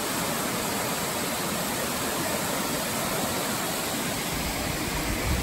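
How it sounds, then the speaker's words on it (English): River water rushing steadily downstream, a dense continuous broadband roar at moderate level with no breaks and no voices. "the water rushing down the river here is constantly moving"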